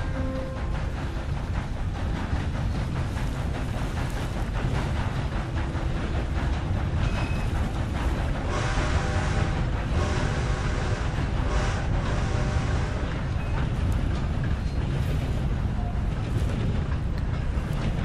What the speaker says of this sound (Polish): Poczekajmy, jedzie pociąg. To pośpieszny.